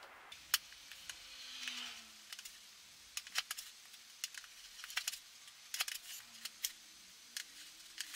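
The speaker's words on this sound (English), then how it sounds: "take this blade, we cut along this line right here" A blade cuts along a marked line on a marker case craft project, making soft scraping strokes with sharp close clicks and taps that come in uneven bursts.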